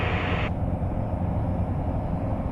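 A Socata TB9 light aircraft engine powers up on a go-around, a loud, close, steady drone heard from inside the cockpit, with a hissy upper layer cutting out early.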